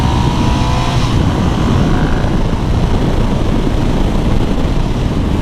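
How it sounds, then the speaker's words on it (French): A 2013 Ducati Monster 1100 Evo, a 100-horsepower twin-cylinder motorcycle, runs loud and close in a continuous rumbling drone mixed with rushing wind, holding steady throughout with no talk. "Aujourd'hui, je vais tester la Ducati Monster 1100 Evo de 2013"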